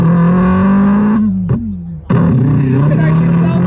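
A man vocally imitates a decatted car engine revving, mimicking a Mk4 Supra at a car meet: a loud, buzzy, sustained drone that briefly drops out and sputters mid-way before roaring back steadily to the end.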